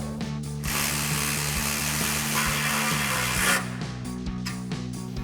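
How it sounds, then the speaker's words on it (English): A ratchet fitted with a 10mm socket tightens the bracket bolts of a RedRock TCX HD front bumper on a 2021-2023 Ford F-150, giving a loud, steady run of close pawl clicks that stops near the end, with a low mechanical hum beneath. "we're going to grab our 10mm socket on our ratchet and our provided Allen wrench"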